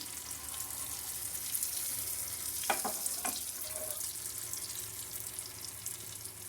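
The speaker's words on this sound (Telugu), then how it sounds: "కొంచెం కరివేపాకు కూడా వేసుకుంటున్నాము. చూసారు కదా, చిట్టుపట్టలాడుతుందండి." Curry leaves spluttering in hot oil for a peanut chutney tempering, a steady close sizzling hiss with a few sharp crackling pops in the middle and no one talking.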